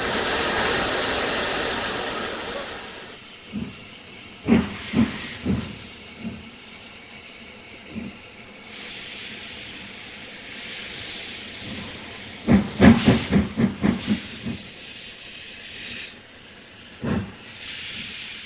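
A heritage steam train on an 18-mile moorland line to Goathland and Pickering gives off long broadband hisses of steam, interrupted by sharp clanks and chuffs that bunch into quick bursts, with no voices.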